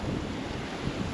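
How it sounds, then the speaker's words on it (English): Rough sea surging and crashing against a jetty at Palmanova, Mallorca, a constant broadband wash of surf mixed with wind rumble on the microphone, loud and continuous with no separate breaks. "it must be quite rough down there because the jetty's actually wet where the waves are crashing onto it"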